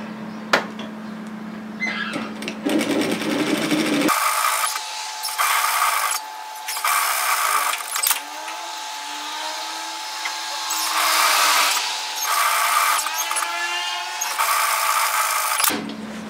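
A sewing machine stitches a reusable cup strap in repeated bursts of mechanical whirring and needle rattle, close and moderately loud, with brief stops between runs.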